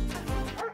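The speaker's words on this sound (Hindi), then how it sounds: "अरे कौन भौंक रहा है ये बदतमीज?" A single loud, close dog bark, a short gruff bow-wow under a second long, cut off abruptly.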